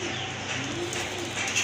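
A pair of Rajgolla pigeons cooing, a low steady murmur running through the whole short stretch with soft background noise and no talk.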